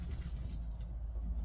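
Faint, low cooing from Baku pigeons rises briefly over a constant droning hum, with no voices.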